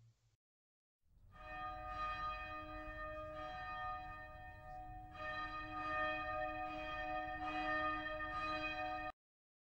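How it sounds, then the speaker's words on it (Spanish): A convent infirmary bell rings steadily for about eight seconds, a sustained resonant clang with pulsing swells, fairly distant and alone, then stops abruptly. "Nuestra madre mandó que tocasen a toda prisa la campana de la enfermería para llamar a la comunidad."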